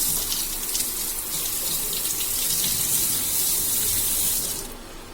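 Steady tap water runs into a basin while a thermostat valve is dipped into cold water, a constant close hiss that cuts off near the end.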